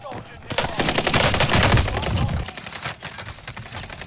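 Rapid automatic gunfire from the Warzone Pacific video game rattles in dense bursts, loud and close, then thins into scattered shots, with brief voices mixed in.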